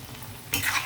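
Chicken curry cooking in oil as fenugreek leaves go in, a low background sizzle that swells suddenly into a louder burst of frying and stirring, close by.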